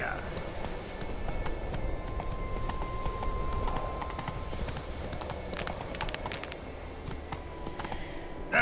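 Horse hooves clip-clop across the ground as the horse Roach walks in The Witcher 3 video game. The hoofbeats are faint and keep going under a busy game soundscape, and a voice talks over them.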